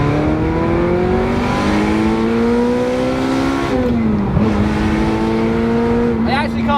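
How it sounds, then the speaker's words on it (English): A Ferrari 355 Spider's V8 holds a loud, steady, slowly climbing engine note up close, dips briefly midway, then rises into a quick rev at the end. "It'd be rude not to at least give it a little rev"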